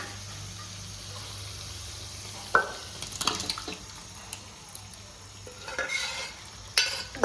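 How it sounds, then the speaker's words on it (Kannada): Cooked lentils are stirred into fried spinach masala in a pan for Andhra-style palak pappu. A spoon scrapes in occasional bursts over a faint, soft sizzle. "ಸೊ ಬೇಯಿಸ್ಕೊಂಡಿರೋ ಬೇಳೆನ ಸೇರಿಸಿದೀವಲ್ಲ, ಇದನ್ನು ಚೆನ್ನಾಗಿ ಒಂದು ಮಿಕ್ಸ್ ಕೊಡೋಣ"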